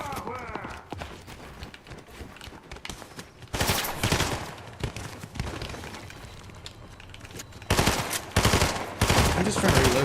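Rapid bursts of gunfire from a Fortnite match, with heavy volleys clustered near the middle and again toward the end over a continuous game soundscape, loud and close.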